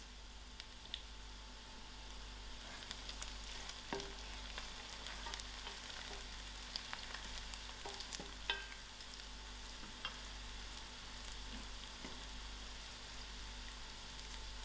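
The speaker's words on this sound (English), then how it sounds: "So I'm going to add in my dry chilies, which I'm going to break into pieces." Onions browning in hot oil sizzle steadily as dry chilies broken into pieces are added, with scattered crackles and pops over a constant frying hiss.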